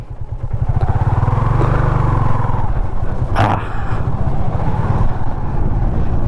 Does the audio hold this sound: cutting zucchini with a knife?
no